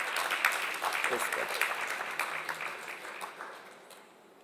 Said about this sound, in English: I think we should give ourselves a round of applause to that